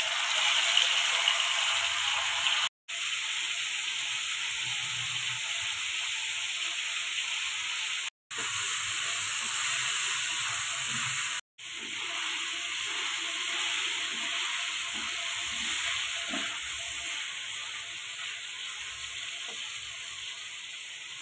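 Marinated chicken sizzles steadily in refined oil in a kadai, a loud continuous frying hiss with faint spatters, broken by three brief silent gaps.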